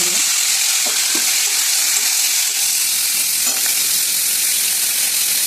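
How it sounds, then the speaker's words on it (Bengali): Onions frying in a hot kadai, a loud, dense, continuous sizzle close up with a few faint scraping touches, no talk. "ভেজে দিলাম কড়াতে। কড়াই গরম হয়ে গেছে"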